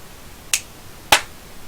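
Two sharp, snap-like hand clap effects from a visual novel game, spaced about half a second apart, crisp and isolated against near silence, the second louder than the first.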